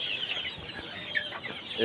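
Sonali chickens about fifty days old cluck softly in a pen, a brief cluster of low, scattered calls close by with no talk.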